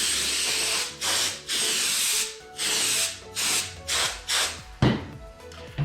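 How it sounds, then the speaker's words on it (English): Compressed air hisses in about seven short, loud, close bursts with brief gaps as it blows dust off a VelociCoaster roller coaster cutout model. "we're just gonna kind of go along here and blow it all off with the compressed air"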